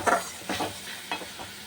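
Masala with Kashmiri chilli powder fries in a pan for egg biryani, brief soft sizzling with a few scraping stirs of the spatula, close and quiet.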